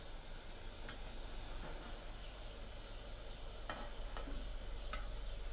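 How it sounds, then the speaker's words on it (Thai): Pounded curry paste stir-fried with mackerel in a pan, giving a quiet continuous sizzle with a few sharp scraping ticks of the utensil against the pan. "อันนี้คือขั้นตอนการพัดเครื่องแกงที่เฮาตำใส่ปลาทูเรียบร้อย"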